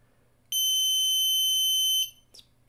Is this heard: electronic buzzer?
yes